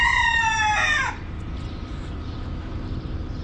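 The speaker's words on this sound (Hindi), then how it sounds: "चिकन वो तो पागल तरह चिल्ला रहा है।" A rooster crows loudly and close by in a village setting, one long harmonic call lasting about a second before it cuts off, leaving steady low background noise with no talk.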